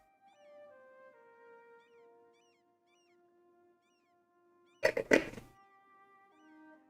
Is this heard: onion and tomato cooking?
no